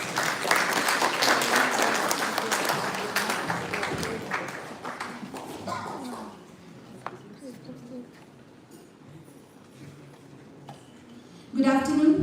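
Summit audience applauds, loud at first and then thinning to scattered claps, with some background noise and a voice coming in at the end.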